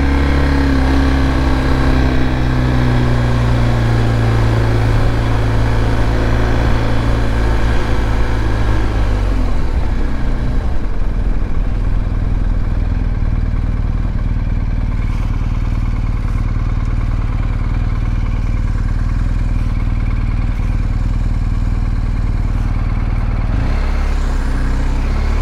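Engine of a 2023 BMW R 1250 GS Adventure motorcycle on a demo ride, a continuous loud droning hum with shifting pitch as the throttle eases off and picks back up, heard up close throughout.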